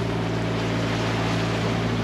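A sailboat's motor drones steadily at sea in the rain, a loud, even low hum mixed with broad wash of water and wind, no voices.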